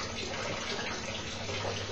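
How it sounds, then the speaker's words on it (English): Water from a large tank, driven by a submersible pump through clear tubing, flows out of the container in a steady, even rush that stays constant throughout. "Today I am conducting an experiment of steady flow of water out of a container."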